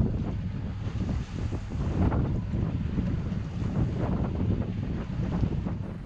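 Strong wind buffets a boat close inshore off the eastern side of Kalymnos island, a steady loud roar with microphone rumble and possible water wash underneath, no talking.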